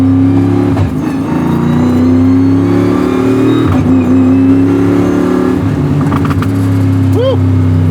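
An 850HP all carbon fiber monocoque Chevy C10 race truck with a sequential transmission accelerates hard from inside the cab, its loud engine roaring and climbing through gears with sharp exhaust pops, while people talk excitedly over the noise.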